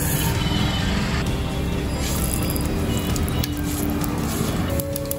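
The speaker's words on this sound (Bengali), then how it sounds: "সর্ষেটা ভালো ভাজা হয়ে গেছে, ফুটছে" Black mustard seeds and broken dried red chilli sizzle steadily in hot oil, a continuous crackling hiss with faint popping throughout, close and loud, no talk.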